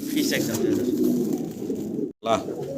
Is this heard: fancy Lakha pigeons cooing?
yes